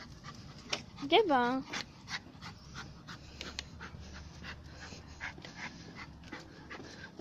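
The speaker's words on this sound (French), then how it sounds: "C'est un gentil chien." Gabin, an excitable dog out on a walk, pants steadily close by and gives a brief high whine early on, while someone speaks French over the breathing.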